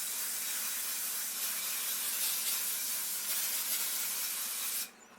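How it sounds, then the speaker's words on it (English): Cooking spray hisses steadily onto a baking sheet for several seconds in a close, continuous burst that stops abruptly near the end. "watch me struggle to spray the sheet because my fingers are small"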